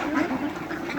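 Ducks quack continuously at a poultry farm in Al Qassim, Saudi Arabia, where chickens, pigeons and rabbits are also kept; the overlapping calls form a dense, steady chorus with no talking.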